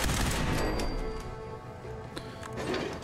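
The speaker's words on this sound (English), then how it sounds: "Oh, it's a frickin' turret." Automated turret fire in the game Fallout 4, a dense barrage of rapid shots and booms layered over a loud, continuous battle din.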